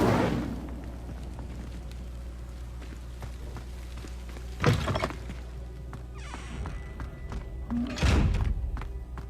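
An Incendio fire spell is cast in the Hogwarts Legacy video game, with two sudden whooshing bursts of flame over a low game ambience, with faint thumps and footsteps, without talk.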